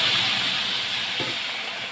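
Vegetables hitting hot oil in a home kitchen pan already holding fried dried red chili and whole cumin, giving a loud, steady hissing sizzle with one soft thud partway through that eases slightly toward the end.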